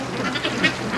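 Ducks quack out in the snow near a muddy hole, a short burst of a few close, moderately loud nasal calls overlapping one another.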